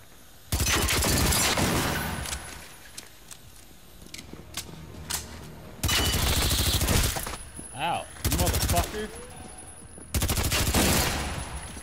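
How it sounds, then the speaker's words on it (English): Gunfire in the co-op shooter Generation Zero: loud bursts of rapid automatic fire in several long volleys, separated by quieter stretches with faint clicks and footsteps. "Just shooting the enemies."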